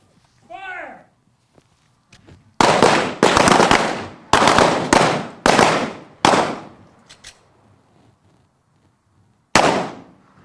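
A short spoken command comes first, then a loud volley of pistol shots fired left-handed on an outdoor training range. Several sharp reports crack in irregular succession, echoing briefly, with one last shot after a pause.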